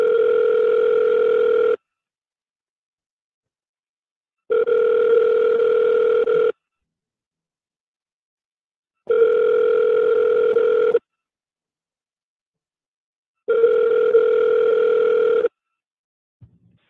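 A telephone ringback tone while calling out, four long steady buzzing rings of about two seconds each separated by silent gaps, clear and alone.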